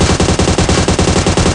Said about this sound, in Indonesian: ada yang nembakin lagi dari atas